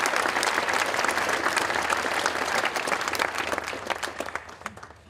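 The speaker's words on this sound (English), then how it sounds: "Let's give you a round of applause" A crowd at a Memorial Day ceremony at a veterans memorial gives a sustained round of applause, dense and even at first, then thinning toward the end.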